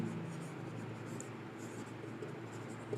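Faint continuous scratching of writing on a board during a physics lecture on Maxwell's equations, low and steady with a few light taps and no talking.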